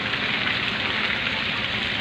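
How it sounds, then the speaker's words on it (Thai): Steady rain falls across open rice fields around a rural temple, a dense even hiss with no breaks and no voices. "ค่อนข้างจะมีฝนตก"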